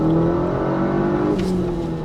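A modified Skoda Octavia with a manual gearbox swap, said to make 400 horsepower, accelerates hard close by, its engine holding a loud, steady rising drone.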